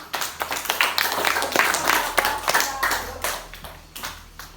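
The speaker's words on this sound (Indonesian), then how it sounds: "tepuk tangan buat Dava untuk jawaban yang pertama." A small group of primary school pupils in a classroom claps unevenly, with scattered hand claps rising and fading over a few seconds, close and fairly light.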